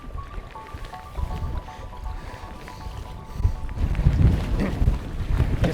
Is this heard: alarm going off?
no